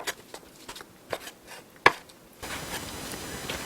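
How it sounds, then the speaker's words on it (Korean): Knife trimming the base off fresh fatsia shoots (dureup) for tempura: a few sparse, crisp cuts and one sharp snap close up, then a soft steady rustle. "두릅은 밑둥을 잘라내고 껍질을 벗겨주세요"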